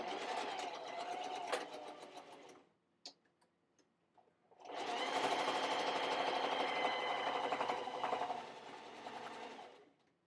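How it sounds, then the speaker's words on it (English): A sewing machine stitches a fabric seam in two steady, rapid runs, separated by a quiet pause with a few faint clicks. "Make sure when you go off, you sew all the way off the end of both edges"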